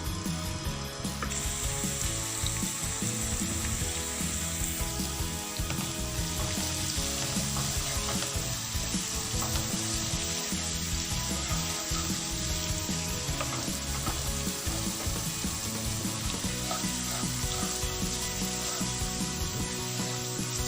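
Continuous crackling sizzle of ginger garlic paste frying in hot oil for chicken karahi, with occasional scraping and stirring sounds, steady and close throughout.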